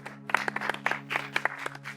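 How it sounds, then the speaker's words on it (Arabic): A small audience claps for a volunteer named Khadija at a live magic trick show, a brief burst of scattered hand claps over a steady low hum. "تفضلي معايا خديجه، صفقوا عليها"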